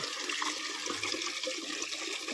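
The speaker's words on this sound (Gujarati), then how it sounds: "તો બોરમાંથી પાણી ઓવરફ્લો" Water gushing and splashing steadily as it overflows from a borewell in muddy ground after heavy rain in Almavadi, Dediyapada, a continuous close rushing wash with no talk.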